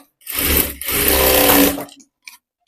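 A sewing machine stitches a zip strip on a blouse in two loud close bursts, a short run then a longer one, before stopping, with no talking.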